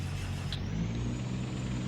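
A constant low aircraft engine hum at idle in a flight simulator game, steady and unchanging, with a faint high whine on top.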